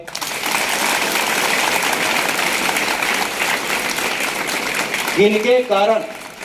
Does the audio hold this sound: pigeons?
no